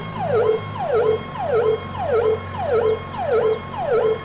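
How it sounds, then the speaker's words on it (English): A fire truck siren from a Farming Simulator 22 mod wails in an echoing, repeating up-down sweep, about six even cycles, loud and steady with no talk. "It's the echo. It's not the actual siren."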